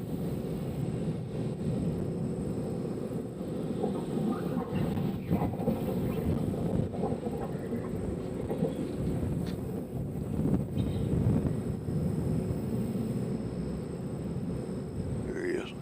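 A United Express airliner inbound from Houston, Texas, approaching runway 20 left at Nashville International Airport, a steady low engine rumble roughening with wind buffeting on the microphone, rising slightly in the middle and near the end, with voices in the background.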